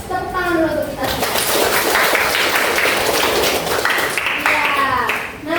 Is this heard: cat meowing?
no